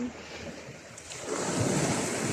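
Ocean waves splash on the shore of a beach, a steady surf wash with wind noise that swells louder midway through the short stretch, no voices.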